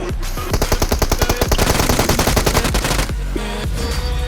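Rapid bursts of automatic gunfire from PUBG Mobile crackle in fast, steady volleys for about two and a half seconds, then give way to a few scattered shots and game noise.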